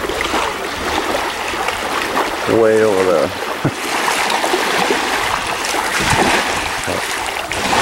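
A canoe is paddled through choppy water in the rain, giving a constant, close rushing wash of water and rainfall with no break, while a voice briefly speaks partway through.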